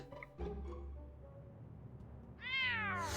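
A cat meows in the Back to the Future video game, one clear rising-and-falling cry arriving at the end after a quiet stretch with faint background tones.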